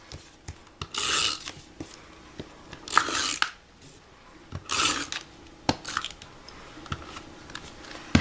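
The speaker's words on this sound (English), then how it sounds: "Now I'm going to take my tape runner" A tape runner laying adhesive strips onto a handmade note card, giving several short dry rasping pulls with quiet gaps between them, close and fairly soft.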